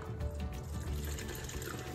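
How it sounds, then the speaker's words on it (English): Lemon juice pours into a pitcher in a steady, close, faint liquid stream lasting a couple of seconds, with no other sounds over it. "we want to pour our 1 cup of lemon juice into our pitcher"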